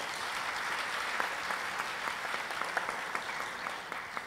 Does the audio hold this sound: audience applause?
yes